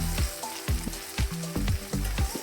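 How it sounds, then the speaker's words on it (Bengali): Chopped onions fry in hot mustard oil in a pan for chicken masala, giving a steady close sizzle broken by rhythmic stirring strokes roughly every half second, with no voices. "আমরা ভালো করে ভাজবো।"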